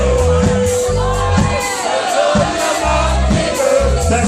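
A concert audience of women at a ska show singing and shouting together, a loud sustained crowd roar with pulsing beats and music underneath.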